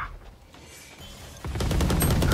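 Gunfire in a video game starts out faint and scattered, then builds into a loud, rapid close-range burst of shots in the final second.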